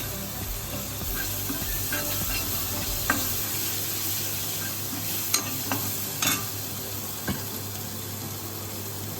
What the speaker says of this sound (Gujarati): આપણે સરસ રીતે આમ સાતરી લઈએ એકદમ